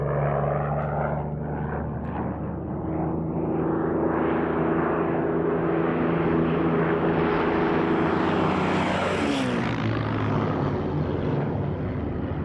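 A Soviet Yak propeller fighter drones loud and steady, its engine tones rising in pitch and then sweeping down as it passes close overhead, with no voices.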